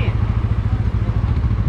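A new Hunter 350 motorcycle's engine rumbles in a loud, close, steady low thumping idle for the whole stretch, with a voice faintly over it.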